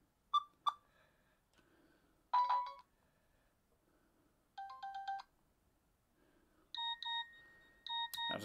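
A Nokia 3650 phone plays its standard ringtone, a faint sequence of short electronic tone bursts and melodic beeps spaced out over several seconds with quiet gaps between.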